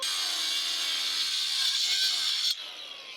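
An angle grinder spins down after cutting into rock while bolting a sport climbing route: a loud, steady high whine winding down over a few seconds, then cutting off abruptly into a quieter hum.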